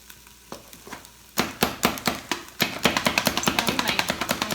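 Knife chopping spaghetti squash on a board in a home kitchen: a few sparse chops at first, then a fast, steady run of sharp, close cuts.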